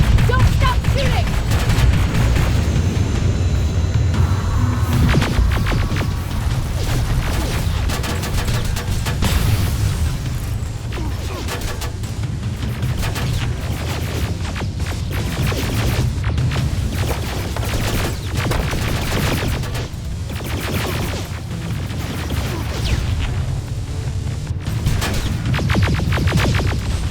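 Sustained gunfire in the video game Terminator: Resistance, a loud unbroken barrage of rifle shots and booming impacts lasting throughout, with shouted voices mixed into the battle.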